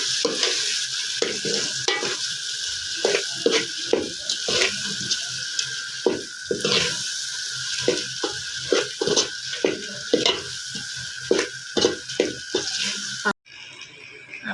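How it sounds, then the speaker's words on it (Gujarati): Corn kernels being stirred and fried in a pan for a Gujarati corn curry, with a steady sizzle under repeated scraping strokes of the spoon, close and continuous. "હવે નાખી દઈશું મકાઈ. બધું મિક્સ કરી લઈશું."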